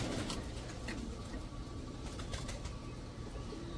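Young pigeons in a farm pen flutter and shuffle, with soft wing flaps and faint scratchy movement over a steady background hiss, no talk.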